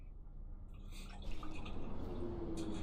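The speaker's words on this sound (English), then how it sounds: "I'm going to pour a coffee whilst I wait." Coffee being poured into a cup, a soft liquid trickle building into a steady stream that runs for a couple of seconds, close by and fairly quiet, with no talking.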